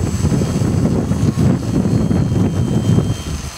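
An RC model Cessna 182 airplane flying in heavy wind, its small propeller engine droning steadily while gusts buffet the microphone with continuous rumbling wind noise.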